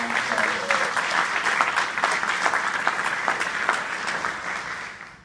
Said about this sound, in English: so a round of applause to our